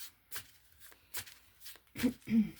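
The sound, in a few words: handling a deck of playing cards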